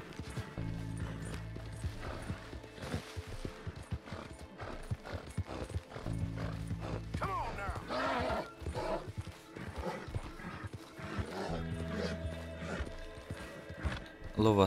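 Hooves clip-clop steadily and a horse neighs and whinnies in the Red Dead Redemption 2 video game on PS4 Pro, close and clear, with voices talking over parts of it.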